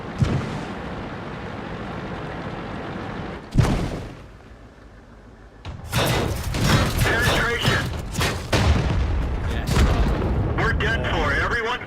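Heavy tank cannon blasts from World of Tanks boom out, one sharp shot mid-way followed by a rumbling barrage of explosions and gunfire, with a player talking at times over the battle noise.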